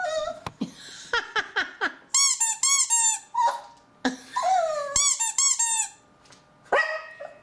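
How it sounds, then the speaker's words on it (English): A dog chews on squeaky toys, giving repeated high, sharp squeaks in quick bursts with short pauses between them, close and clear. "I bought a couple of the squeaky toys."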